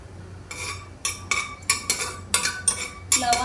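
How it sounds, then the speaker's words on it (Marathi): Cloves and cinnamon being sautéed in hot ghee for traditional coconut rice, heard as a run of sharp metal spoon clinks and scrapes against a pan, coming in regular bursts close up with no talk. "त्याच्यामध्ये आता आपण लवंगा आणखी दालचिनी घालून परतून घेऊया छानपैकी"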